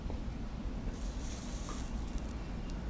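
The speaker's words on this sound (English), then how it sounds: "Love that sizzle, flux." Soldering flux sizzles against a hot iron while a wire is soldered to an Xbox 360 controller, a steady bright hiss that rises after a quiet start and carries on close and continuous to the end.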